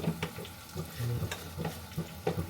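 Vegetable curry made with leftover rotli fries in a pan while being stirred, giving soft sizzling and scraping strokes with a few utensil taps, close but fairly quiet.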